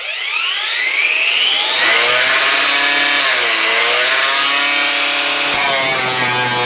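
A Parkside Performance X20 PWSAP 20 Li E6 cordless angle grinder spins up to a loud, high whine and holds its speed close to the microphone, with a slight dip in pitch partway through.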